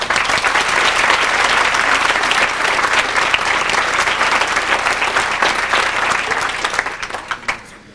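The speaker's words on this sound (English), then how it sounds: "So let's give a round of applause for Melissa Privos." Audience at a Mariner High School graduation ceremony applauding for a speaker, loud, dense and sustained clapping that thins out into a few scattered claps at the end.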